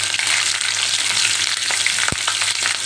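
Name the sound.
cumin and green chillies frying in oil for sabudana khichdi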